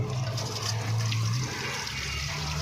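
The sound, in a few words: water from hose flushing car heater radiator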